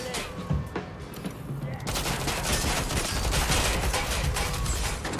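Rapid automatic gunfire crackles in dense bursts during a firefight in the video game Watch Dogs: Legion, starting sparse and swelling into a sustained, loud barrage.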